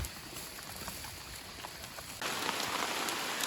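Rain from a passing rainstorm hisses steadily on nearby surfaces, with scattered drop patter, and grows noticeably louder and denser partway through.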